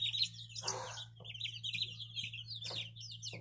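Bantam and Americana chicks peep and chirp in rapid, overlapping high-pitched trills at close range, with a soft cluck and a steady low electrical hum underneath.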